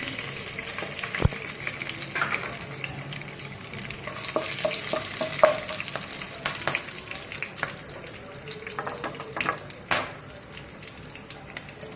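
Cinnamon pieces, cardamom pods and cloves frying in hot oil, a soft continuous sizzle with scattered crackles and a few sharp clinks, steady and close with no voices.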